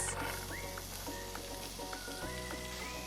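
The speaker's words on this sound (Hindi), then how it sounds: "अब इसमें डालेंगे प्याज" Onions sizzle quietly in a pan, a soft steady frying hiss with faint tonal background hum.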